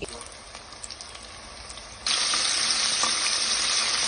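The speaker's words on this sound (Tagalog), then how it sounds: "So, now, let's put the chicken sa kawali." Chicken pieces go into a hot frying pan, and a loud, steady sizzle bursts in halfway through, replacing the quiet kitchen background.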